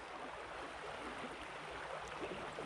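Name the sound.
flowing water at the banks of Sandy Creek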